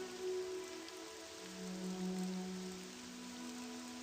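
Steady rain patters continuously in the video game Morrowind, a soft even wash of falling drops with low hum and faint tonal music underneath, and no voices.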